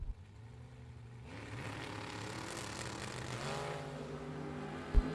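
A pickup truck and a Corvette Roadster launch at a drag strip bracket race, the engine roar building from a low idle into a sustained loud rumble with a sharp thump near the end.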